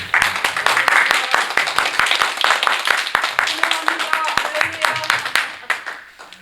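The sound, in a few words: congregation's welcoming applause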